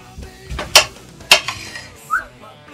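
A kitchen knife cuts a cucumber in half on a board at home, giving two sharp, close clicks about half a second apart over a quiet background.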